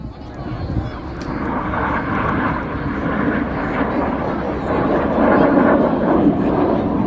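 Red Arrows jets flying the Synchro Heart display at RIAT, RAF Fairford, a steady loud jet roar that swells slightly over several seconds, with commentary faintly mixed in.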